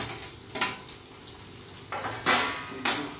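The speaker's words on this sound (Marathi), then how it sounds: "तर आता ह्याच्यात मी घालत आहे बारीक चिरलेला टोमॅटो." Finely chopped tomato tipped into a pan of browned onions for a Marathi padwal bhaji, giving a few bursts of sizzling and utensil clatter against steady low kitchen background.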